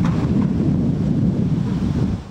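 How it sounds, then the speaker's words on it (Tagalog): Strong wind and big waves roar along the Manila Bay shoreline in Manila during a storm, a dense, steady rush of wind buffeting and surf churning without a break, loud and close throughout. "makikitang malalaki pa rin ang alon at damang malakas na hangin"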